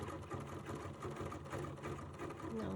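A sewing machine hums continuously, close and moderately loud, while couching decorative fibers along a line of stitching, with a slight rhythmic pulse throughout.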